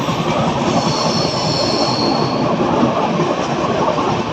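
The 22732 CSMT-Hyderabad superfast express rolls through the Bhor Ghats, a loud, continuous rumble of carriages and wheels with a high metallic squeal riding on top, heard from on board.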